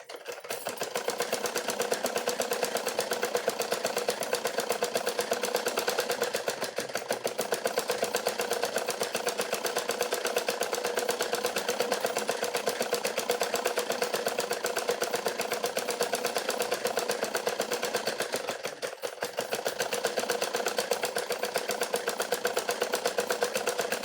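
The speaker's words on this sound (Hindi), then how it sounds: "अब हम बाजू को भी इसी प्रकार सिलाई लगा लेंगे।" A sewing machine stitches a sleeve while making a plain blouse, running as a continuous, fast, even mechanical whir and rattle for over twenty seconds, close and steady with only a brief dip, and no one speaking.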